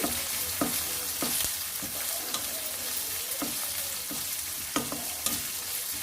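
Thinly sliced onion pieces fry in oil in a pan, a steady close sizzle broken by several sharp scraping clicks of a spoon stirring, with no talking.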